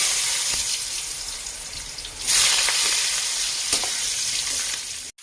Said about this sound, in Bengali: জিরা দিয়ে দিলাম আলু কাটা এর ভিতরে ভেজে নেবো